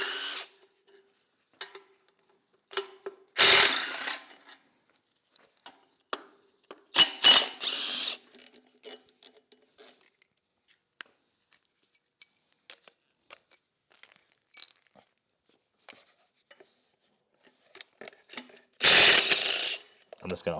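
Ratchet with an 18 mm socket turning on a BMW S63 engine during a teardown, giving short bursts of rapid clicking separated by quiet gaps, close and loud.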